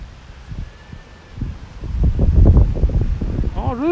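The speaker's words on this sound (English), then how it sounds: "This is the weather where your bicycles are toppled down by the wind anywhere you park them." Strong wind gusting outdoors on a Tokyo street, a broad rushing roar that swells toward the middle, with faint voices under it.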